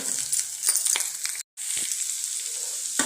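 Gentle sizzling of beetroot frying in oil, with a few scraping and stirring sounds; moderately close and steady, with a brief silent gap.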